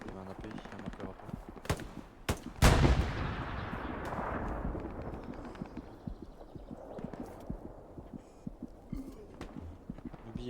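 An artillery shell fires in a tactical war video game, a single sharp boom that rings out and decays into a rumbling tail, followed by scattered smaller impacts and clatter in the background.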